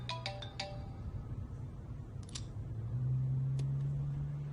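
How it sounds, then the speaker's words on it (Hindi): A mobile phone ringtone plays in short melodic beeps at the start, fairly faint and fading under a low steady hum of room noise. "काम के समय फोन म्यूट करो।"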